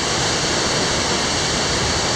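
Sukhoi waterfall in Crimea rushes over a rocky stone riverbed, a steady, loud, unbroken roar of falling water filling the whole clip with no voices.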